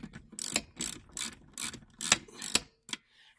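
A hand ratchet tightens the seat bolts of an E46 BMW seat being fitted into an E36, giving a run of about seven quick, close clicking bursts in steady rhythm before stopping.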